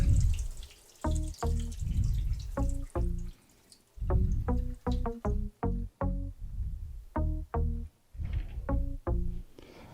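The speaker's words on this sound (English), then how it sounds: "So I'll drain this out again." Water from soaked pinto beans is poured off in repeated gushing pulses, a run of splashy, gurgling bursts separated by short pauses, close and fairly loud.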